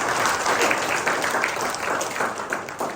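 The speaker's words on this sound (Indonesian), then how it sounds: "Boleh berikan tepuk tangan bagi dia." A church congregation at a GBI Rock Cipanas service breaks into steady, full applause that fills the room for the whole stretch without a break.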